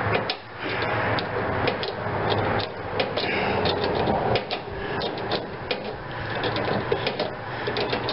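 A bolt run in with a tool while adjusting brakes, making a steady mechanical whir with rapid ticking and clicking, close and continuous throughout.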